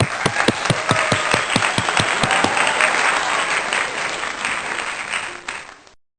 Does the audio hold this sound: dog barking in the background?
no